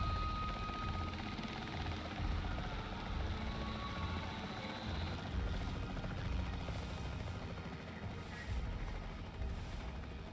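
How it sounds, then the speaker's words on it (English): Helicopter of the capture team in the video game Jurassic World Evolution 3, a steady rotor and engine drone that holds continuously at moderate level throughout, with no talk. "The priority needs to be tranquilizing it with the capture team chopper"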